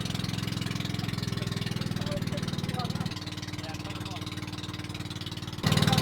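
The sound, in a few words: boat engine running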